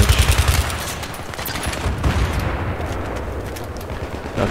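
Rapid gunfire in Battlefield 3 on the Damavand Peak Conquest map, with a loud burst of shots at the start fading into a steady wash of distant battle noise.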